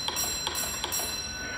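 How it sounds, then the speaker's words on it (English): A railway signal box bell rings with sharp metallic strikes, three evenly spaced chimes that each leave a short ringing tail over a quiet room background, with no talking. "Bruce is going to call your attention with 1 beat on the bell"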